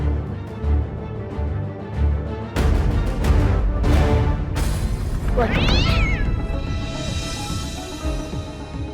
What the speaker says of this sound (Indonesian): Ternyata cuma kucing lah. Cuma kucing,